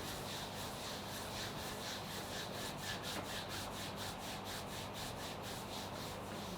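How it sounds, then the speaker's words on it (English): Hands briskly rub the ankles during a yoga warm-up for the lotus posture, a steady, close, rhythmic back-and-forth friction that continues without a break. "Start at the ankles and give them a rub."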